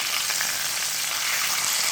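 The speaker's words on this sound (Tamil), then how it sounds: "இது கொஞ்சம் நேரம் இந்த எண்ணெயிலே பொரியணும்." Pava fish frying in hot oil, a steady, bright crackling sizzle held close and even throughout the short stretch, with no voices.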